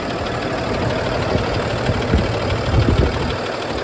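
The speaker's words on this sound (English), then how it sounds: "And as you hear, the engine is sounding great." A 2017 International DuraStar 4300 26-foot box truck with air brakes sits idling, its diesel engine giving a steady, close, rumbling drone with a slight knocking texture and no voices.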